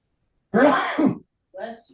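A single loud, close sneeze in two quick parts, followed by a softer, brief vocal sound.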